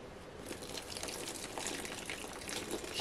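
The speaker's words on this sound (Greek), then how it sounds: "Θα ρίξουμε το νερό" Water pours steadily into a mixing bowl for sweet aniseed bread dough, a continuous broad splashing rush lasting throughout without pause, moderately close and alone.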